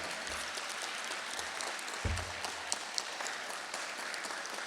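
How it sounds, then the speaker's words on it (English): Graduates at the 2022 QGHS graduation ceremony applaud their families and support systems: a steady wash of crowd clapping, moderately distant, with a few sharper nearby claps and low thumps standing out. "Oh yeah, keep clapping."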